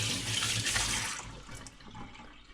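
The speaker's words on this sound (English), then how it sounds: "So let's quickly wash my hands." Water runs steadily from a kitchen tap while hands are washed beneath it, a close, broad rushing that fades partway through as the flow is cut back, with no talking.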